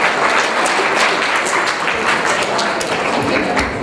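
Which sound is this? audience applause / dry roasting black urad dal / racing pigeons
audience applause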